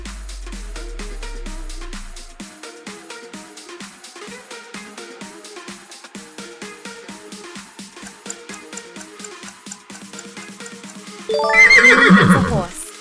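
A horse neighs loudly near the end, a sharp whinny breaking in over background music, with no other animal sounds before it.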